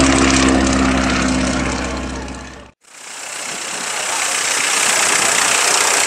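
A propeller aircraft landing at an air and vintage vehicle show roars loudly and close, drops off abruptly for a moment, then returns as a broad rushing wash of engine and wind noise.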